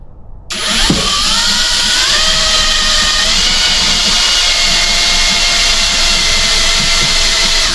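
A power drill fitted with a brand new bit bores into steel on a slip yoke eliminator kit for a 242 transfer case, starting abruptly and then holding a loud, steady whine with a slowly rising pitch.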